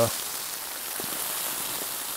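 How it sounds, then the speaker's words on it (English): Rain mixed with slushy half-hail falls steadily outdoors near a tent, a dense, even hiss of drops with a few soft taps, moderately loud and continuous. "it's started to rain hard, and it's kind of let up a little bit. It's half rain, half kind of slush"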